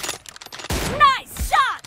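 A loud, sharp M24 sniper rifle shot in a 1v1 video game match cracks out once near the start, followed by game voice lines over the fading report.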